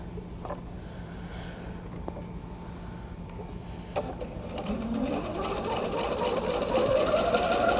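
A sewing machine stitches two bear paw quilt pieces together, starting with faint, sparse whirring and then building into a steady, louder run of rapid stitching that climbs in speed toward the end.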